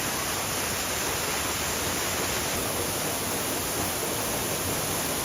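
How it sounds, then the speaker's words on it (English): Middle North Falls, a waterfall on the Trail of Ten Falls in Silver Falls State Park, roars as a steady, dense wash of falling water, loud and unbroken throughout with no voices. "This is the Middle North Falls"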